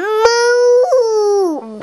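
A young child imitates a cow's moo with one loud, drawn-out vocal tone close to the microphone that wavers and drops in pitch at the end.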